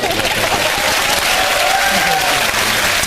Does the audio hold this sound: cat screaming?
no